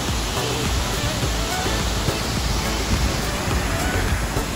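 A waterfall on the Jaguaricatu river pours over rocks, a loud, close, unbroken rushing roar that holds steady throughout.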